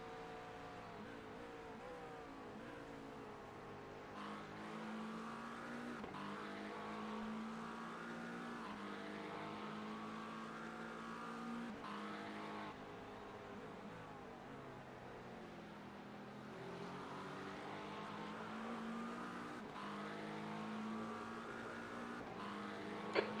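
GT3 race cars at Bathurst in iRacing, a steady engine drone with rising and falling revs as cars pass and shift gears, continuous and moderately loud with no talking.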